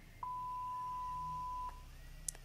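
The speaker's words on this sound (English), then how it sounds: "I've got this sensor beep sound effect" A single sustained censor beep tone sounds for about a second and a half, clean and steady, followed by a faint quiet tail.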